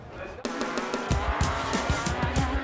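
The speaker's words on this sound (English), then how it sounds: "gentlemen, start your engines." Off-road race trucks at a TORC short-course event in Crandon fire up together, a sudden loud burst of engine roar and revving that jumps in and stays dense and busy under crowd and announcer noise.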